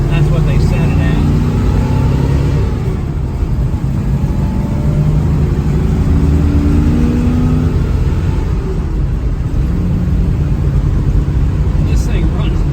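A 1955 Studebaker Champion's engine runs with a steady low rumble from inside the moving car, its pitch rising and falling gently with short swells, while a voice speaks faintly at times.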